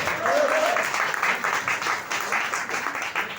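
An audience at a company event in Abu Dhabi applauds, a steady wash of many hands clapping that continues for several seconds before slowly thinning, with a voice faintly underneath.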